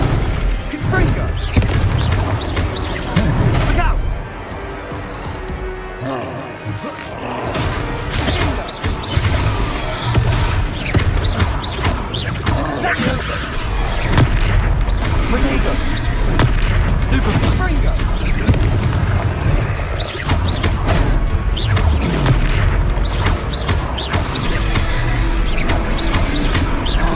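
Confringo spell blasts in Hogwarts Legacy combat go off as repeated booming explosions and impacts over a steady deep game rumble, with voiced characters speaking throughout.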